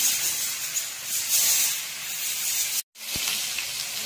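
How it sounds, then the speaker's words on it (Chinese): Chicken frying in oil in a pot gives a steady, close hissing sizzle throughout, with a brief dropout near the end. "这个也相当于是用油煎了半天了"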